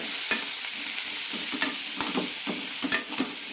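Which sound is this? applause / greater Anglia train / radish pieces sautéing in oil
radish pieces sautéing in oil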